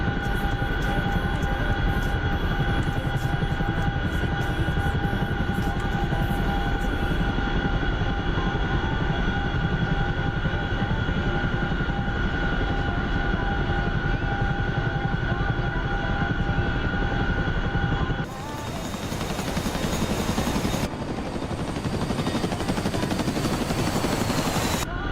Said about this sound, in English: that NPC Chinook should be getting close